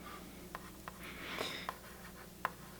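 Faint scratchy taps and strokes of a stylus writing a short list on a Boogie Board Jot eWriter LCD writing tablet, quiet and close against a low room hum.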